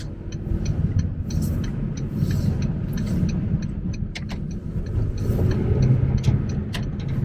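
2016 Mercedes Vito van with a 2.1-litre four-cylinder turbocharged diesel cruises along, a steady low engine drone with road rumble heard from inside the cabin, a few faint clicks above it.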